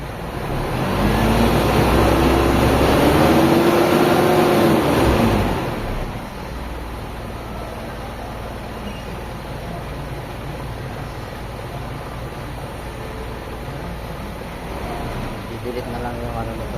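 A car with a faulty speed sensor revs to raised RPM, its engine roaring loud and rising for several seconds before dropping back to a lower, steady running drone.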